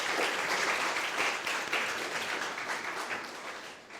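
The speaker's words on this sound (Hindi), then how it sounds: "डॉक्टर साहब का भी हम पूरा ताली बजाकर स्वागत करें।" An audience at a higher-education panel discussion gives a doctor a welcoming round of applause, a steady wash of many hands clapping throughout, fading slightly at the end.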